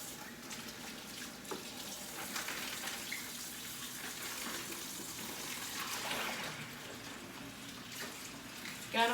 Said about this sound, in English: Gotta wash our hands, keep it clean.